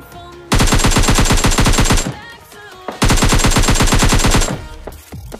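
Two long, loud bursts of rapid automatic gunfire in the PUBG Lite video game, each lasting about one and a half seconds, separated by a brief pause.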